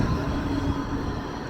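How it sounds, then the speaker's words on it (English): Blackpool tram rolling along its rails, a steady low rumble with a faint pitched hum, sustained and fairly close throughout, with no voices. "Let's keep up with the tram."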